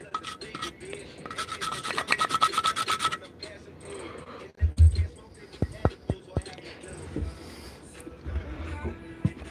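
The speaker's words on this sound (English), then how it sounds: "We'll just clean out the grinder, honestly." A herb grinder is scraped and rubbed out by hand, giving a fast rasping burst followed by scattered taps, knocks and scratches, near and moderately quiet, with someone talking at times.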